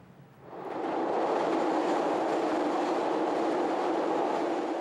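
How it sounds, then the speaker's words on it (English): A Chicago L elevated train rumbles in and rattles steadily past, the loud clattering roar building quickly and holding close for several seconds. "If it wasn't for the rattle of the L all the time"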